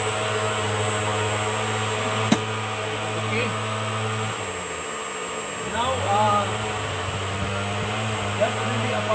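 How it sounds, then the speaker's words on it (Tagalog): A fan motor running on a gear driven self powered generator, a steady loud mechanical hum with tonal bands that dip and shift as the load changes midway, with a brief click and someone speaking briefly over it. "We have to start the fan motor."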